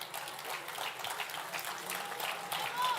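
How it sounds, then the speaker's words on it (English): An audience at the opening ceremony of the European Athletics Off Road Running Championships applauds officials, producing steady, moderately distant clapping across the whole span with voices faintly mixed in. "we can give them also an English applaud"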